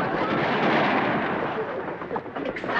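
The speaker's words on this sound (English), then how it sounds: "We're chasing some fellas. They shooting at us." Gunfire erupts during a chase scene in a 1960s Beverly Hillbillies sitcom episode, a dense, continuous roar of loud shots and blasts with no pauses.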